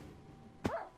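A Minecraft dog lets out a single short bark, sharp and clear, over a quiet game background.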